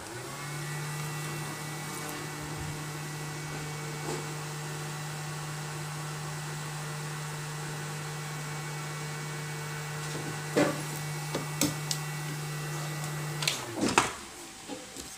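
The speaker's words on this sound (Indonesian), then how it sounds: "Bisa kita panaskan menggunakan hair dryer ataupun" A hair dryer blows steadily to heat a water-damaged Xiaomi phone's touchscreen, a constant droning hum with a few clicks and knocks near the end.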